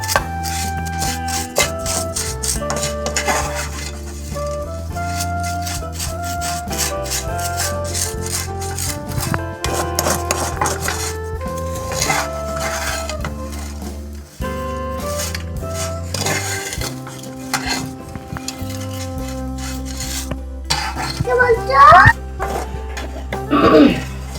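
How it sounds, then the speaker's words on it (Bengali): Vermicelli frying lightly in ghee over a low gas flame, stirred with a utensil that gives soft scraping and clinking against the pan, heard under steady background music. "একই ঘিতে আমাদের কিন্তু সিমাইটাকে হালকা ভেজে নিতে হবে"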